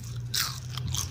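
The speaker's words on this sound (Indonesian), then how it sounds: "sekarang aku akan tes kriuk ya" A single loud, close crunch as someone bites into a crispy fried potato stick, followed by softer chewing crackles.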